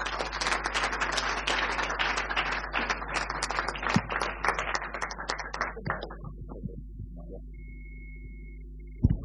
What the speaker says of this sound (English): I think you deserve applause.